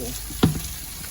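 Pieces of bottle gourd drop into a pot of boiling water, making a single short splash over a quiet, steady bubbling background.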